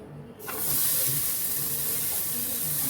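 Chopped onion drops into a hot pan with toasted bread for a pizza burger and bursts into a loud, steady sizzling hiss that starts abruptly and keeps going, close and alone.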